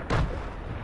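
One short, heavy boom bursts out in a Fortnite Chapter 2 solo match, then quickly fades into a low rumble with no one talking.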